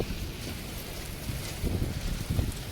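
Steady rain pours down under a storm wall cloud in an April shower, a dense hiss of drops hitting surfaces with low rumbling swells, and no voices.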